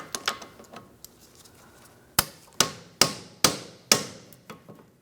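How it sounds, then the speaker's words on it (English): A hammer taps a small pry bar to knock parking brake cable locking clips loose on a 2004-2008 Pontiac Grand Prix, sharp metallic strikes, a few light taps followed by five firm evenly spaced blows, close and ringing. "I'm just using a hammer and a small pry bar so I can get into this area, and I'm going to tap it out of position"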